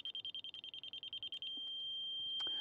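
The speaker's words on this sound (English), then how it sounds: "It's beeping fast because I'm high." Laser level receiver mounted on a dual-sided grade rod beeps rapidly in a fast, even pulse of high tones, then switches to a steady continuous tone, close by and fairly clear.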